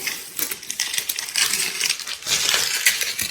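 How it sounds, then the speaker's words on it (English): Blue painter's tape is peeled off a shower surface, making bright, irregular crackling and tearing rips in quick bursts, close up and alone. "Now the last step is to pull the blue painter's tape off, which I'm doing."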